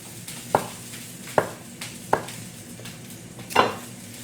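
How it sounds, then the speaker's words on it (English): A knife roughly chops cucumber on a cutting board, four separate sharp knocks spaced about a second apart against a quiet kitchen background. "But for now, I'm just going to roughly chop my cucumber."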